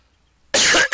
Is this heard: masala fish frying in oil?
no